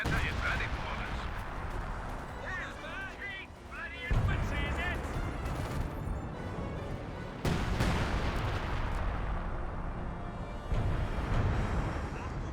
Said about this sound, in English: Artillery barrage being brought in.